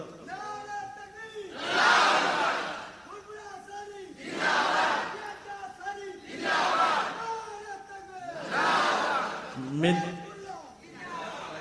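At a religious waaz gathering at the Piyardanga Darbar Sharif in Medinipur, a large crowd roars out the Takbir in four or five loud rhythmic surges, and a lone voice leads each call in the gaps between them.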